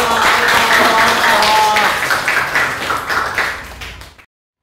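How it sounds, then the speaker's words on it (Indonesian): A high school class claps together in a classroom, a rhythmic burst of many hands with some voices mixed in. It is loud at first, then fades and stops sharply. "Tepuk tangan dong untuk 10-1"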